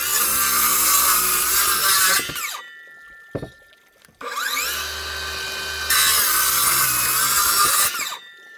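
Miter saw cutting 70 mm oak: two long, loud, high-pitched whining cuts with a brief pause and a sharp knock between them, the blade winding down after each pass.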